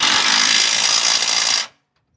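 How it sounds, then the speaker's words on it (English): An air impact wrench tightens a Jeep leaf spring bolt, one loud continuous rattling burst lasting about a second and a half before cutting off abruptly to silence. "now he's using the air thingy to tighten it"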